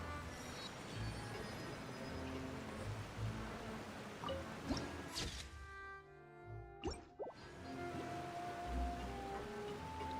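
Rain falls in the Genshin Impact video game, a quiet steady patter with soft drips and plops, faint and continuous, broken by a brief rustling swish midway.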